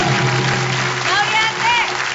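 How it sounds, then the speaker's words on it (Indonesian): An audience applauds for Bella Safira on an Indonesian TV variety show, a steady wash of clapping that runs the whole moment with voices and faint tones mixed in. "tepuk tangan dulu buat Bella Safira"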